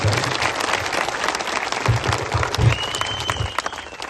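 A crowd claps at a political speech by an MLA, loud, dense applause sustained from start to finish with a few louder bursts, no talk over it.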